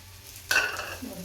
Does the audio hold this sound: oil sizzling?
yes